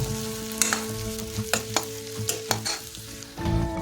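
Green chillies and eggplant stir-fried in a wok for a leafy greens dish, a steady close sizzle broken by sharp scraping and clanking spatula strokes, with a louder burst of frying near the end.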